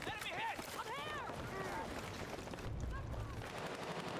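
Rapid automatic gunfire in the Battlefield 6 beta, crackling in bursts at moderate distance beneath a voice and other game sounds.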